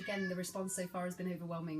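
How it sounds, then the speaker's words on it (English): A house cat meows insistently, several short nasal cries in quick succession, close to the microphone and overlapping a person speaking. "I don't know if you can hear my cat, but he's decided to take issue with something right now."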